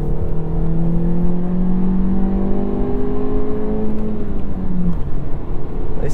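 A 2023 Volkswagen Jetta engine driven hard on a track, droning loudly and steadily with a rising pitch under acceleration, then dropping sharply near the end as the revs fall.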